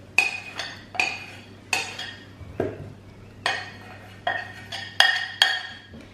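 A spoon strikes and scrapes around a salad bowl as ingredients are mixed for avocado salad or chaat, with repeated sharp metallic clinks roughly every half second over a low steady hum.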